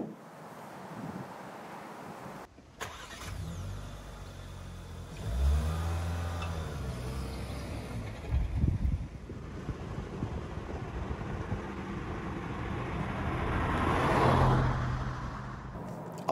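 A Skoda Octavia 1.5 TSI sedan pulls away, its engine note rising from a low idle into a steady drive with wind and road rush building. No one speaks.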